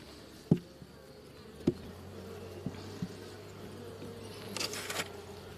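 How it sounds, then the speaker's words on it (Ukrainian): Honey bees on a honey frame in a hive, a faint low steady buzz with a few sharp knocks and a brief rustle near the end. "Ось так сидять бджілки."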